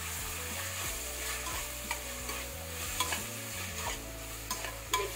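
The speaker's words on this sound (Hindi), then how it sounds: "नमक, मिर्च और हल्दी इसे अच्छा मिक्स कर लेंगे।" Salt, chilli and turmeric being stirred into tomatoes in a pan, with repeated close scraping strokes of a spoon over a low, continuous sizzle and no voices.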